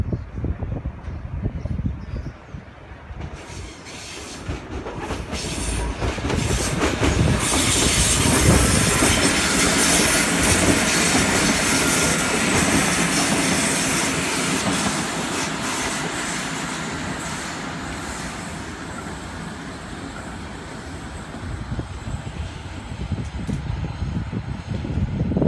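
Xplorer passenger train bound for Canberra passing close by, a loud steady rumble of wheels and rail clatter that builds, holds and slowly fades over about twenty-five seconds.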